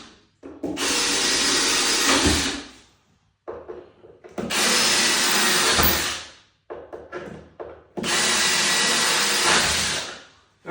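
A power drill grinds through ceramic tile in three long bursts of several seconds each, loud and close, with short quiet pauses between them.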